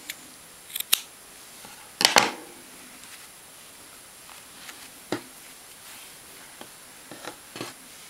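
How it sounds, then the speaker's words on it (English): Scissors snip through yarn during a crochet baby hat project with a pom pom, giving a few crisp close cuts, the loudest a brief double snip, followed by softer scattered handling clicks in a quiet room. "Cut the yarn."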